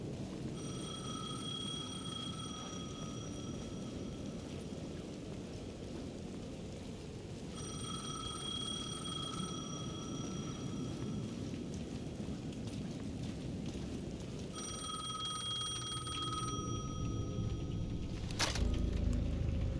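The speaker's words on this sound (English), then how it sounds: "The payphone at the edge of the plaza was ringing again." A payphone rings in bursts of repeated electronic trills at the edge of a plaza in the video game Alan Wake 2, three rings spaced several seconds apart over steady rain-like ambience.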